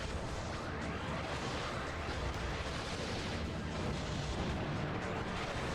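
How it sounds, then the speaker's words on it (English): Rapid Gatling-style gunfire in the Custom Robo video game, a dense, sustained rattle of shots and blasts with faint game-audio texture underneath. "It's kind of like a Gatling, but it has like a weird arc"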